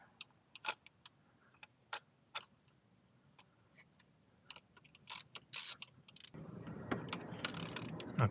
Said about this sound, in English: Tighten it until you hear the crack.